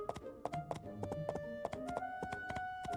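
Rhythmic clip-clop of horse hooves during a horse race in the farming game My Time at Portia, steady galloping beats with a light musical backdrop, no talking.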